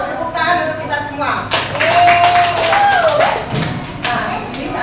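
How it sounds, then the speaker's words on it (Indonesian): Schoolchildren clapping hands in a classroom, a brief burst of claps mixed with voices and chatter, close and lively. "Tepuk tangan untuk kita semua."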